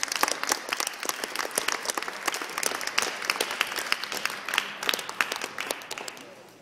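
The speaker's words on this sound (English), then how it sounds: "Can we also get a quick applause thanks to all the presenters that came and shared today?" Fairly quiet applause from a university teach-in audience thanking the presenters: steady, scattered clapping from a mid-sized crowd, heard at some distance and tapering off toward the end.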